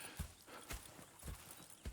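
Horses' hooves in Red Dead Redemption 2 give a soft, steady clip-clop of about four evenly spaced beats, faint and low in level with no talking.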